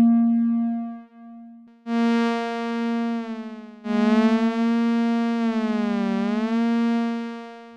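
A synthesizer in 2-synth polyphony, with the first and second synths linked into one sound, holds a steady low tone. A bright, harmonically rich layer joins it and bends and sweeps in pitch before settling, with no talking.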